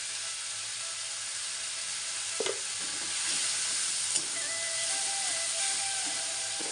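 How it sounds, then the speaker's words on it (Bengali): Spices sizzle and hiss in hot oil in a pan while being stirred and fried with salt and turmeric, a bright continuous frying hiss with a few clinks of the spatula, close and alone without speech. "লবণ দিয়ে দিলাম, মশলাটা একটু কষে নেব।"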